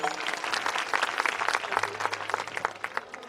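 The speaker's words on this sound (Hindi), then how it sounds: "बजाओ तालियां" Audience at a Ramkatha religious discourse applauding, a dense burst of many hands clapping at fairly close range and steady loudness, with a low hum running underneath.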